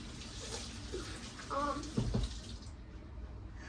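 Tap water runs quietly into a sink while hands are washed, a soft continuous stream with a few brief splashes, and a faint voice murmurs in the background before the flow stops.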